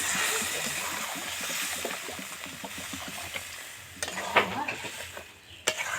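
Well-fried masala for a fish, potato and eggplant curry sizzles steadily in a pan while being stirred; then water goes in, causing a louder burst of hissing and splashing, followed by a sharp utensil knock.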